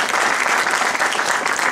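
An audience breaks into loud, steady applause, dense clapping that fills the whole short stretch without pause.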